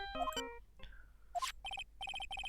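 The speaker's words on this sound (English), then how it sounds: "Hey Nick, your cell phone is ringing." A cell phone ringtone from the Phoenix Wright video game, a short electronic melody followed by bright repeating ring bursts in a steady pattern, clear and close with no talk.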